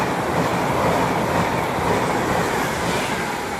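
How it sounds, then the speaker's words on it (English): A Pendolino train departs Watford Junction on the West Coast Main Line, a loud, close, continuous rumble of wheels and rolling stock with faint rhythmic clatter, without any talking. "we've got our Pendolino service to Manchester Piccadilly. And obviously the 7:30s are leaving"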